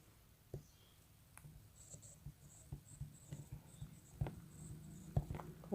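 Pen scratching on paper while a geometry solution about a parallelogram is written out, faint irregular strokes and taps that grow busier toward the end, quiet and close with no talking.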